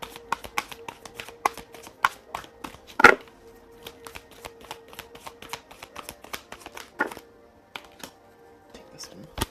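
Oracle cards from an archangel deck are shuffled and pulled, giving a rapid, steady train of crisp card clicks and riffles close by, broken by a few louder slaps, with no speech.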